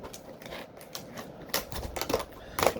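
Scissors snip through a stiff plastic blister package on a McFarlane figure, giving a short run of crisp crunchy cuts up close that grow louder toward the end.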